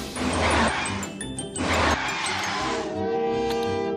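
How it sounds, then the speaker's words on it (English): A short burst of the Simpsons theme tune plays loudly: a bright, crashing full-band swell that settles into held brassy chords before cutting off. "And just for fun, a clip of the Simpsons theme tune."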